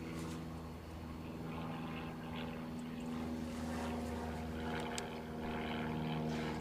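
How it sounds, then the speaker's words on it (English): A Piper PA-161 light aircraft flies over near an airport, its propeller engine a steady low drone with a droning harmonic hum, moderately faint and continuous. "The overfly is a Piper PA 161."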